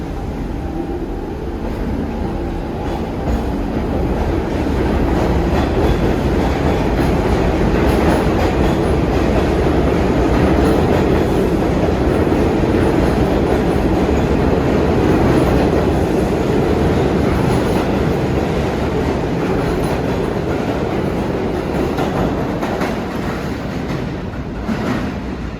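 A New York subway train rumbles steadily through Hoyt-Schermerhorn station in Brooklyn, with loud continuous rail roar, wheel clatter and faint squeals sustained throughout, no voices.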